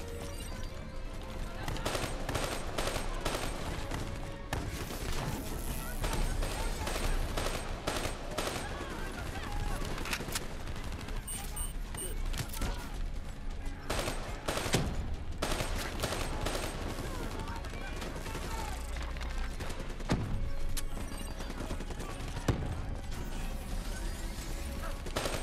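Rapid automatic gunfire in Call of Duty: Black Ops 3 campaign combat, dense bursts of close, loud shots running almost the whole time, with occasional speech underneath.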